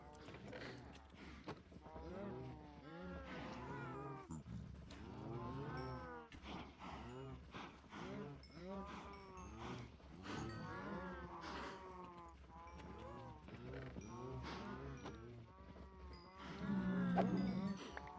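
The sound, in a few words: baby cow mooing in a video game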